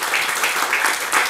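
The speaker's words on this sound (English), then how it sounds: "Kita beri applause dulu untuk Ibu Sandi, Pak Ayu" Audience applause at an academic curriculum development series session, a short dense burst of clapping filling the room at steady loudness.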